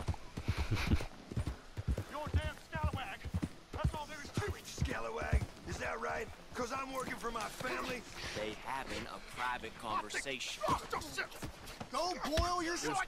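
Rhythmic hoofbeats of a horse in Red Dead Redemption 2 clip-clop steadily beneath voices talking and arguing, with the horse's steps carrying on throughout at a moderate, even pace.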